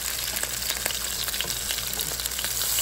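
Chicken stew with flour browns in a pan, giving a loud, steady, close sizzle and crackle throughout, with light stirring scrapes and no talking.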